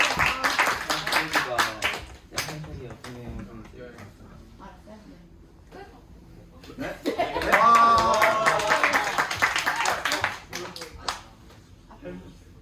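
A school audience at a student project presentation breaks into applause, quick scattered clapping that swells around the middle, mixed with a speaking voice and some light laughter.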